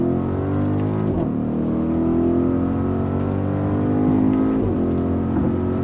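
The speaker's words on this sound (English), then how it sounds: "Love the sound of that V8." A 2025 Audi SQ7's V8 engine accelerates on throttle, a loud, steady rising roar with brief dips at gear shifts, heard from inside the SUV.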